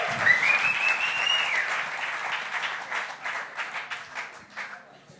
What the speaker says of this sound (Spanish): Aplauso para Yasmil Marrufo, por favor.